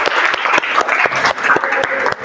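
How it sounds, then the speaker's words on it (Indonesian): Classroom applause from students after a countdown, a burst of irregular, fairly close clapping from a small group that stays steady for a couple of seconds with sharp individual claps standing out. "Oke, tepuk tangan untuk kita semuanya."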